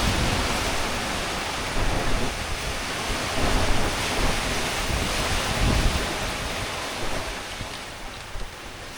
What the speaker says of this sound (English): we're in basically the peak of the wind and waves, I think, for the entire trip